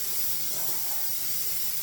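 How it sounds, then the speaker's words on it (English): Steady broadband hiss of a pressure canner venting steam while taco beans are processed, continuous and fairly loud with no voices. "she's been venting with the steam here for 10 minutes"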